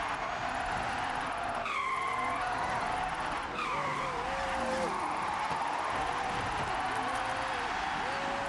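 A car drifting through a drift zone in Forza Horizon 6, tires skidding and squealing in wavering high whines over a steady engine roar, with repeated slides across the stretch.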